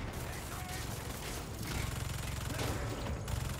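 Turret gunfire in Marvel's Spider-Man 2 rattles on continuously as dense, rapid bursts within a busy game mix, fairly faint overall with no clear gaps.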